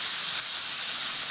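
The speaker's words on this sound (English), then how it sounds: "Now we are frying." Mince sizzles in hot oil with spices, a steady bright hiss like steam filling the pan without a break for about a second, loud and close with no voices.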